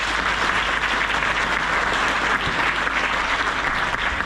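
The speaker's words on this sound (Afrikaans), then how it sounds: "'n Lekker hande klap asseblief." An audience at a theatre festival applauds in a dense, steady burst of clapping that holds throughout, close and fairly loud.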